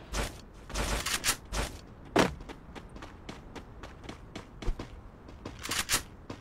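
Gunfire in a battle royale game fight: clusters of sharp shots and a few single bursts ring out fairly close, with quieter footsteps and shuffling between them.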